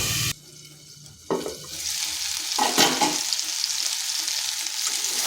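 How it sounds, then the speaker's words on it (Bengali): Pumpkin curry being stirred in a pan on medium heat once the lid comes off, a steady sizzle of frying with scraping stir strokes rising after a quiet start, close and moderately loud, with no talking. "এটা ঢাকাটা তুলে মাঝখানে একবার নেড়ে দিয়েছিলাম"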